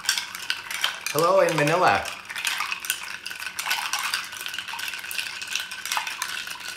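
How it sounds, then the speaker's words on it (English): A Bijou cocktail stirred with ice in a mixing glass, a continuous close jingling rattle of ice and bar spoon, with a brief sung phrase over it early on. "so I'm gonna give this a big stir"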